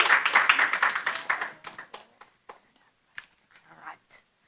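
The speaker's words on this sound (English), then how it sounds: "give them a round of applause and we'll get started." An indoor audience claps in a burst of applause that fades into a few scattered claps, with a voice briefly heard along the way.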